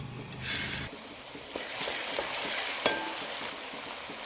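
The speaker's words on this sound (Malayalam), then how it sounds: "ഇഞ്ചി, പച്ചമുളക്, വെളുത്തുള്ളി അതെല്ലാം നമുക്ക് ഇട്ടേക്കാം." Crushed ginger, green chili and garlic go into a hot pan of oil for Kerala-style sliced mango pickle, setting off a steady, close sizzle and frying hiss with light stirring scrapes and occasional clicks.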